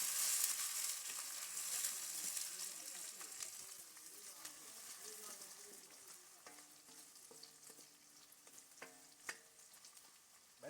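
Silver cyprinid (omena) fish being stirred with a wooden cooking stick in a pot over heat, giving a steady close sizzle and frying hiss with scraping stir strokes throughout, with a little faint speech in the background.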